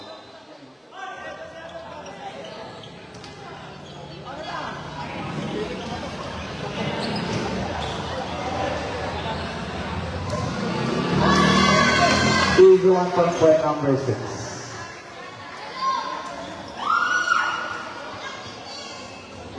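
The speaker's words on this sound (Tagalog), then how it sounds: "The crowd's going crazy, sir." Crowd cheering at a summer-league basketball game, a swelling roar of voices with bouncing balls and sharp shouts, building to a loud peak while a commentator talks over it.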